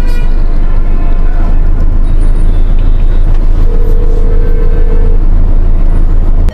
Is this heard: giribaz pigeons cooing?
no